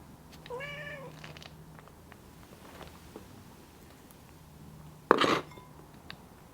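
A cat meows at dinner time, a clear rising meow early on followed by quiet room sounds and then a short, louder clink of dishes or cutlery.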